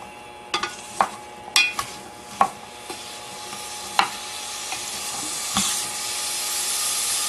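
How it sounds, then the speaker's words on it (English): Flat-sliced radish fries in a pan with sesame oil, salt and pepper for Korean beef radish soup: a steady, close sizzle with sharp clacks and scrapes of stirring scattered throughout. "Put radish in pan and fry well with sesame oil,"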